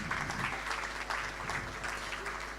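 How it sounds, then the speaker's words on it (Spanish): Audience applause at a regional forum on innovation and productive reconversion in Paysandú, Uruguay: dense, steady clapping from a seated crowd that fills the whole stretch at an even level, with a faint voice underneath. "Un aplauso."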